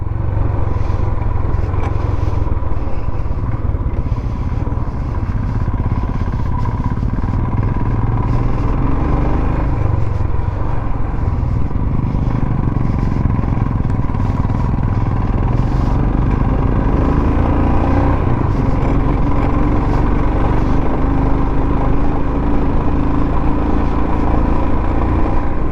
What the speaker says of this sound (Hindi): मेरे सामने एक चंडीगढ़ का राइडिंग ग्रुप भी जा रहा है जी।